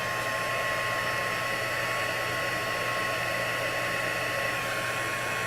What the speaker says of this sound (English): we're going to heat that up with our heat tool